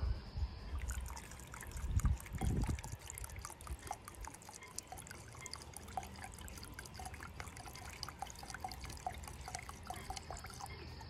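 Mineral spirits are poured into a container of high-build marine varnish, making a soft, trickling liquid stream that starts with a brief heavier splash and continues faintly as a thin dribble.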